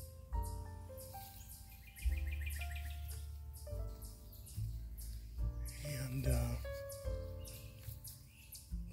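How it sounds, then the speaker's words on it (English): Birds chirp and call repeatedly in the woods along a path near a small trickling stream, bright sharp notes coming in quick bursts over faint background, with a brief spoken word. "A lot of birds and chipmunks you can hear through here."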